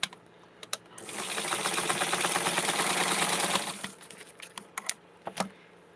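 A sewing machine stitches a Barbie gingham outfit in one continuous burst of about three seconds, a rapid mechanical rattle close by. Scattered clicks and handling taps come before and after it.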